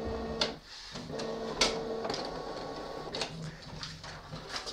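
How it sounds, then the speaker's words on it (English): Scanner lid of a Canon Pixma TR8620a inkjet printer being lifted open, giving a few short plastic clicks and knocks with a brief sliding scrape, close by and moderately loud in a quiet room. "open the scanner lid"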